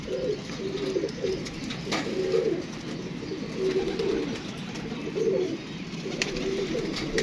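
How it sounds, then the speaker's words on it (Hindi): A pigeon coos in soft, repeated phrases against a steady background hum, close and fairly quiet. "ये देख, ताजी जेठिया कबूतर है ये।"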